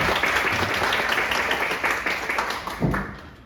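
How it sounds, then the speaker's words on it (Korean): Applause from an audience at a maritime sovereignty policy forum in a small National Assembly Library meeting room, a sustained dense burst of clapping that gradually thins toward the end. "자, 큰 박수로 모시겠습니다"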